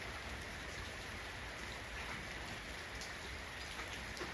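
Steady rain falls where an elephant plays outdoors, a dense, even hiss of drops on surfaces that continues unbroken and fairly soft throughout, with no voices.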